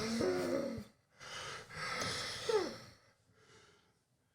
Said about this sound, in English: Why are you breathing so loud?